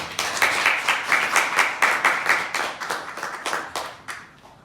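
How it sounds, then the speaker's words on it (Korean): A church congregation at a Sunday service claps together, the hand claps falling in a quick, even rhythm that stays loud and close for several seconds before easing off at the end. "한 주간 동안 애쓰고 수고하신 모든 분들 위해서 박수 한번 치고"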